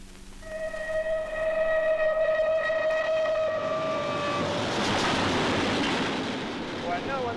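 A train travels steadily in a 1962 spy thriller near the Austro-Hungarian border, a loud rolling rumble with a long steam whistle blast that fades into broadband rushing noise.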